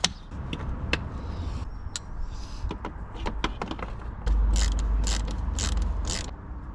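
A hand ratchet clicks while bolts are tightened underneath a Ford Focus, with quick bursts of close, sharp mechanical ticks broken by short pauses and a heavier scraping stretch near the end, with no talking.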